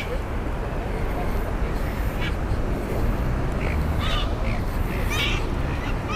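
A few scattered caws ring out over a constant roar of wind and surf at Bondi Beach, Sydney, with people talking in the background.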